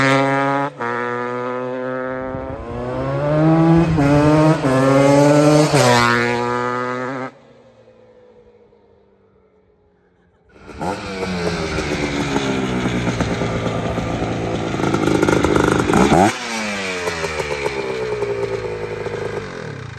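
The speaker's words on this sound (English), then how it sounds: "Man, it feels good to ride a 250R." A big bore Honda TRX250R two-stroke ATV being ridden, the engine revving loudly up and down with rising and falling pitch, a brief quieter idle lull in the middle, then hard revving again.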